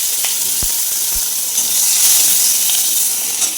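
Onion frying in hot tempered oil in a home kitchen gives a steady, close hiss of sizzling, loud throughout and with no voices, while a couple of faint clinks sound briefly near the start.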